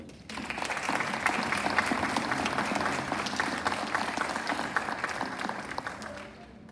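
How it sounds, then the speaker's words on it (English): Audience at a school board meeting breaking into sustained applause, a dense wash of clapping that swells quickly, holds for several seconds at moderate distance, then fades out near the end. "Can we give her one more round of applause?"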